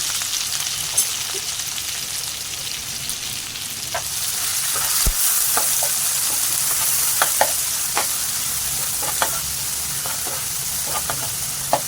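Garlic, curry leaves, green chili and onion sauté in hot oil for a raw jackfruit curry, giving a continuous dense sizzle with occasional sharp stirring clicks.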